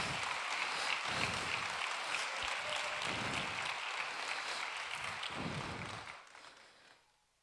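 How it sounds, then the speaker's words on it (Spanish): Congregation at a church service applauding, a steady wash of clapping from a crowd that holds for about six seconds, then fades out, with faint voices underneath. "Aplaudamos al Señor"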